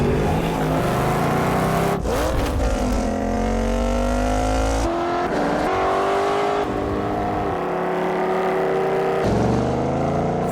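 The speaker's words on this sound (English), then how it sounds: "Ford Mustang." A Ford Mustang engine revs and pulls away loudly and up close, with rising and falling pitch sweeps as it accelerates and shifts, continuous engine roar throughout.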